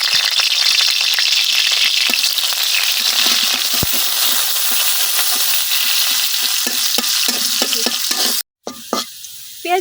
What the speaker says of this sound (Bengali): দিয়ে দিতেছি কাটে রাখা পেঁয়াজ।